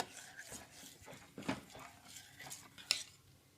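A spoon scrapes and knocks against a pot as wheat papad batter is stirred over low heat, making soft, irregular scraping strokes with a few sharper metallic clinks, faint and close, without voices.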